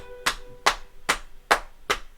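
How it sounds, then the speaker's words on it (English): Five crisp hand claps ring out alone in a quiet room, evenly spaced about every four-tenths of a second, each one sharp and close. "Okay, I'm going to clap this time."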